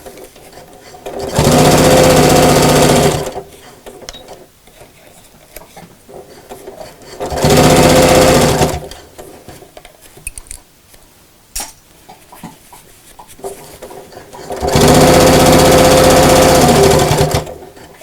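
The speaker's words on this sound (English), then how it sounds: "I'm going to just move my fabric back again and go back over the stitch line" A sewing machine stitches a quilted fabric bag in three loud, close bursts of fast whirring, each lasting a couple of seconds, separated by quiet pauses with faint fabric rustling.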